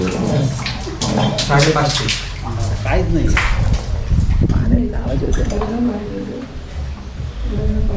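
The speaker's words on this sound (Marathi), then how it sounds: "पाच बायका इथे ते विहिरीचं पाणी काढत आहेत" Several women draw water from a newly built well in rural Konkan, with splashing, pouring and bucket sounds under constant chatter and voices nearby.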